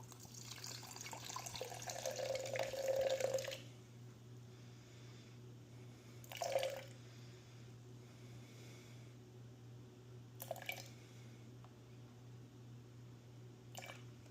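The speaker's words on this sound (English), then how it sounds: "we do 50 times 4, which is 200 grams of water." Water, 200 grams, pours into a sourdough starter container for a few seconds, rising in pitch as it fills, followed by a couple of brief splashes over a low steady hum.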